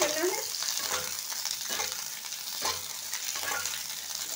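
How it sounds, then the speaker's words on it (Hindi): Chopped onion and capsicum sautéing in hot oil in a kadai: a continuous loud sizzle with repeated stirring scrapes spaced about a second apart. "डालेंगे इसमें जो प्याज और ये जो शिमला मिर्च हमने काट के रखे हैं ना, इसे सॉटे करने के लिए इसे डाल देते हैं।"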